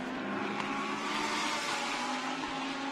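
A Lamborghini Huracán Super Trofeo race car accelerates away in a Shanghai race, its engine a loud, steady, high-pitched roar that holds for the full three seconds with no voices.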